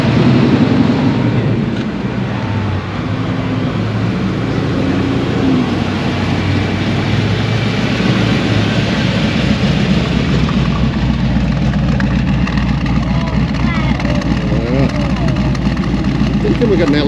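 A deep, rumbling LS V8 truck engine idles steadily at close range at a cars and coffee meet, its low throb continuous with faint background chatter.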